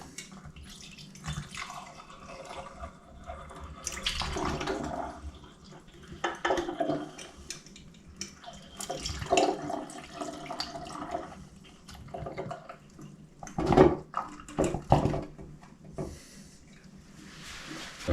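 Rhubarb gin poured into a cleaned, sanitised bottle, heard as several separate bursts of trickling and gurgling liquid with quiet gaps between them and light handling noises close by.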